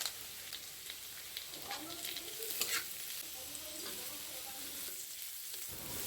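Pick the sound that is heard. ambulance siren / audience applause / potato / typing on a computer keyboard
potato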